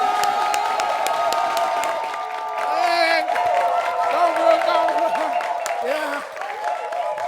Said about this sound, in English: Ladies and gentlemen, a big round of applause for